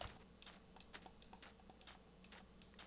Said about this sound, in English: I'm typing it in.